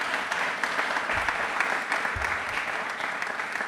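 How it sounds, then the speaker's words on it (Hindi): Audience applause at a Republic Day quiz show, a dense and even burst of clapping from a sizeable crowd that holds steady for a few seconds with no one speaking. "एक बार तालियां वापस से जोरदार होती नीचे मैम के लिए।"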